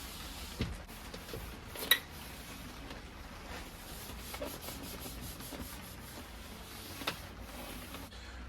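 Clear coat being sanded on an Arrma Limitless carbon fiber RC car body: soft, quiet, continuous rubbing strokes close up, with a few light knocks in between.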